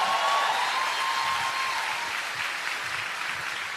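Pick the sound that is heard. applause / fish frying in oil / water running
applause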